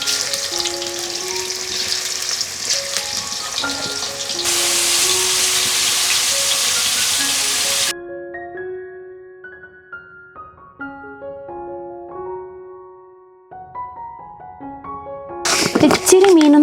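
Small masala-coated fish pieces fry in a pan, giving a loud, continuous sizzle and crackle for about eight seconds before it drops away to a quiet melodic passage, with a brief burst of sizzling again at the end.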